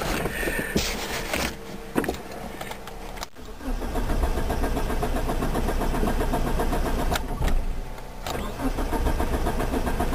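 A 1992 Eagle Talon cranks and tries to start with the pedal floored and extra fuel added, its engine catching in small kicks amid a steady, loud mechanical churn that runs throughout, with a brief break near the middle.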